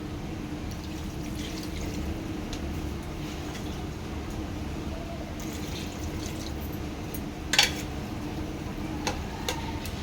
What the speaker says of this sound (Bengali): এবার আমি এতে দিয়ে দেবো জল।